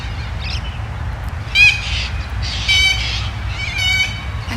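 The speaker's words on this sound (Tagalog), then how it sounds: "Ang dami niyang ibon guys." Several bird calls, short squawks and honks, sound at intervals over steady low outdoor rumble at a lake in Australia, moderately distant.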